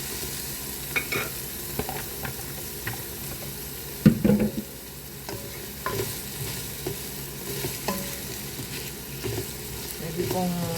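Sliced bitter gourd (ampalaya) hits a hot pan with oyster sauce and sizzles steadily while being stirred, with occasional scrapes and clinks of a utensil against the pan, close up and moderately loud.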